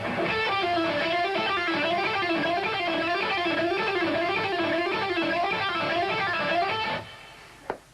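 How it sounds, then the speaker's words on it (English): An electric guitar plays a fast rock lick mixing picked notes with pull-offs and hammer-ons, a bright, continuous run of rapid notes that cuts off cleanly after about seven seconds. "So the whole thing is like pick, pick, pull off, pick, pick, hammer, hammer."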